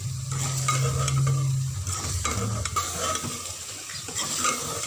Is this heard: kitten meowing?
no